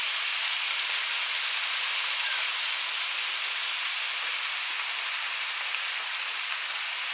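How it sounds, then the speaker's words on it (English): A steady, dense hiss of chicken frying in hot oil continues evenly throughout, close and fairly quiet, with no voices. "I have my chicken frying for my chicken tenders"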